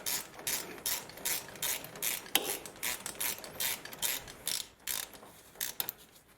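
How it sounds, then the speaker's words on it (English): A ratchet wrench clicks in quick repeated bursts while 14mm bolts on the front brakes of a 2010 Toyota Prius are loosened, close and fairly loud, with short pauses between strokes. "going to start by removing these 14mm bolts here"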